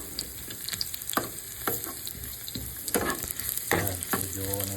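Garlic sizzles and fries in a pan with a steady crackle, while a utensil stirs and scrapes against the pan in several distinct strokes, close and moderately loud.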